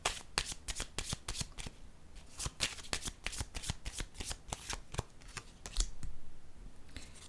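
Oracle cards are shuffled for a card reading in a rapid series of crisp, close riffling slaps, with short pauses between bursts and a softer rustle near the end.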